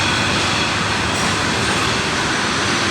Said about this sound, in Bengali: দেখেন এই ট্রেনটা কি স্পিডে যাচ্ছে